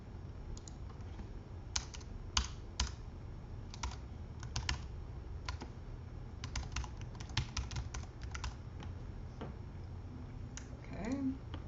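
Close, quiet typing on a computer keyboard while renaming a file: irregular bursts of light key clicks with brief pauses, and a faint voice at the end.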